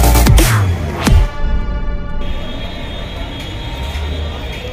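A Delhi metro train rumbles and hums steadily during a ride, with a couple of sharp whooshing transients early on and a broad, constant rolling roar afterward, and no talk over it.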